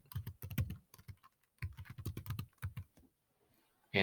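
A folder name is typed on a computer keyboard in quick bursts of close, crisp key clicks with short pauses, followed by a brief louder sound at the very end.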